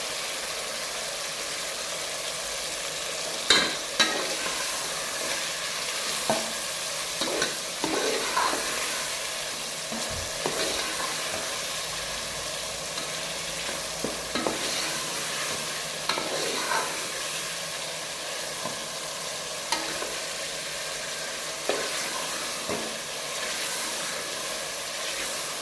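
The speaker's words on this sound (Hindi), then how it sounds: "इन्हें अच्छी तरह मिक्स करना है ताकि ये मसाला बहुत ही अच्छी तरीके से बन जाए।" Salt and masala being stirred into goat trotters (paya) in a pan, a steady soft sizzle of frying under scattered scraping and knocking of the spoon against the pan, close and continuous without speech.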